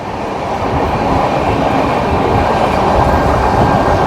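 A passenger express train runs at speed around 100 km/h, a loud continuous rumbling roar of wheels on rails heard from inside, steady throughout with no talk.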